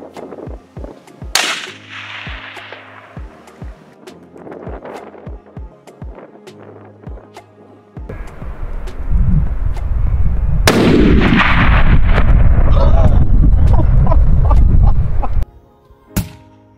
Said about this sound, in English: Here's some shots on some kudu.